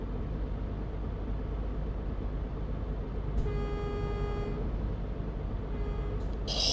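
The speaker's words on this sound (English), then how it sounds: "Honk." A car horn honks in a video game while exploring a Nordic setting, one sustained honk partway through followed by a brief second toot, over steady engine and road rumble.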